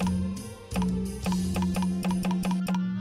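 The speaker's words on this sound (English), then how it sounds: "when you have menu options that make sounds like this." FlutterBug video game menu sounds play as a low steady hum with a series of quick clicking ticks, like options being scrolled through one by one.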